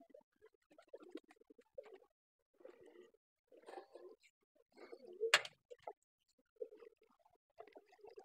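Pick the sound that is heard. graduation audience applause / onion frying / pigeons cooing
pigeons cooing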